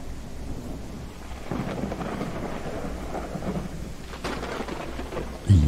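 Steady rain pours through a nighttime forest in a video game, with rolling thunder rumbling low and continuously underneath and a sharper crack near the end.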